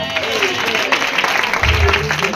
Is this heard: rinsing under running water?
no